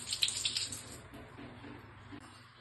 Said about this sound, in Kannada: ನೀರು ಹಾಕ್ತಿದ್ದೀನಿ ಬೆಲ್ಲ ಕರಗೋದಕ್ಕೆ.